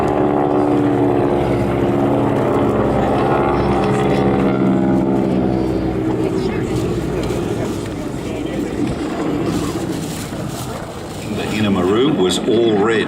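Propeller aircraft fly together at the Wings Over the Illawarra 2018 air show, their loud droning engines sweeping past with a shifting pitch, then fading slightly before surging again.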